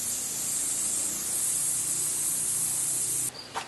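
A garden irrigation sprinkler spray nozzle sprays water in a steady, close, hissing rush that continues without a break and then drops off abruptly just before the end.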